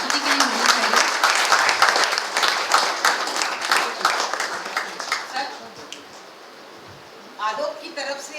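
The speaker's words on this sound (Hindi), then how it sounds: "जोरदार तालियां उनकी इस प्रस्तुति के लिए होनी चाहिए" Enthusiastic audience applause for a stage performance at a cultural event, a dense burst of clapping that fades after several seconds, then a brief renewed patter at the end.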